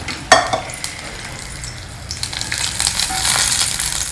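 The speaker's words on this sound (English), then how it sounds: "Just saute all these well in the oil." Peanuts and tamarind sautéing in hot oil on a stove, a steady close sizzle with a sharp utensil clatter near the start, the frying growing louder and busier toward the end.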